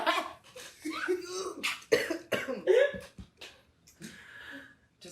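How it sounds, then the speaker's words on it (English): Several harsh, rough coughs burst out close by, mixed with breathy throat noises and a bit of muffled talk. "Just cough if you got it, bro."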